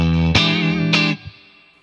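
The low sixth string of a DAME ST5 electric guitar, a Strat-style instrument, is struck twice in quick succession through an effects unit, giving a loud, full, distorted tone that rings and then cuts off sharply, with no voices.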